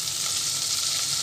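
Strips of paneer frying in oil and melted butter in a kadai, giving a steady, loud, close sizzle with no voices.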